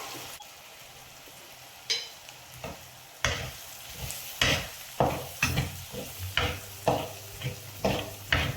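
Masala with turmeric and tomato paste stirred in a hot pan, a soft sizzle broken by a steady series of scraping spoon strokes that grow regular and rhythmic, close up with no talking.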